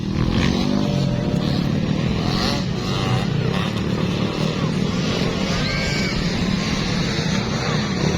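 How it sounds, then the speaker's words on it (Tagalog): Motocross racing motorcycles, including bike number 27, compete at a Mindanao motocross race in Barangay Kauswagan, Misamis Oriental. Their engines make a loud, continuous roar with revving throughout, and a commentator's voice runs underneath. "Number 27 ang dala nga motor ni Laila Guro"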